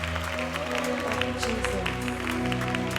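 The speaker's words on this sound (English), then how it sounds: "Clap your hands to the Lord today" A church congregation claps in a quick, steady rhythm during worship, many hands together over ongoing music and voices.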